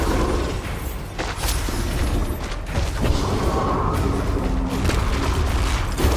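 Explosive spells such as Bombarda and Confringo go off in Hogwarts Legacy during a combat sequence, a dense, loud barrage of booming blasts and crackling bursts that runs almost without pause.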